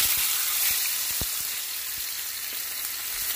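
Food fries in a pan with a dense, steady sizzle, sharp crackles and pops scattered through it, close and fairly loud with no voices.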